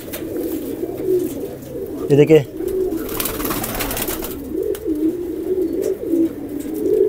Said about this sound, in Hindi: इस तरह भी आपको काफ़ी ज़्यादा कबूतर मिलेंगे